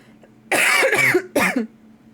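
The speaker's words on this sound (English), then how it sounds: "I'm gonna use my inhaler again, clearly, because my cough is coming back" Two harsh, close coughs, the first longer and rattling, followed by a shorter second one, with quiet in between.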